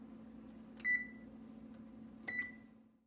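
An oven control panel beeping while the preheat is set to 350 degrees for baking cookies, two short electronic beeps about a second and a half apart over a low steady kitchen hum, no talking.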